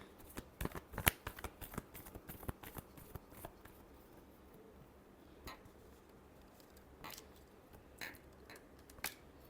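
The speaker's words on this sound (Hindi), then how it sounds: "last shuffle" Tarot cards being shuffled up close in repeated quick riffling bursts, a flurry of crisp clicks and flutters early on, then sparser, quieter handling with a few more bursts toward the end.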